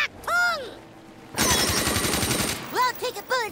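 A sentry gun fires rapid bursts in South Park: The Stick of Truth, a loud rattling volley in the middle of the clip, with excited speech before and after it.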